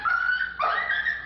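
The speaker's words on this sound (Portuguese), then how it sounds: "O cachorro apanha, preso a uma corrente." A dog chained up and beaten with a broom handle gives a high, wavering whimper, two drawn-out cries in quick succession, close and fairly loud with no talk.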